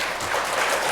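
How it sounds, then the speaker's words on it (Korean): A church congregation claps during a Sunday service to welcome a newly registered family, giving a brief, even patter of applause in a large room. "네, 박수로 환영하겠습니다"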